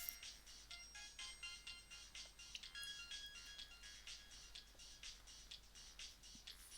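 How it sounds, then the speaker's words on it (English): Mobile phone ringtone in a video game, a bright repeating electronic tune playing steadily throughout at moderate level, with no talking over it. "they have a pretty kicking mobile phone tune"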